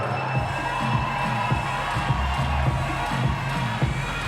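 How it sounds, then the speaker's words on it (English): Arena crowd cheering for female athletes at a CrossFit-style regional competition in Europe, a loud continuous roar of voices and shouts with rhythmic low thumps beneath, sustained throughout. "can we get a cheer for all of our athletes right now?"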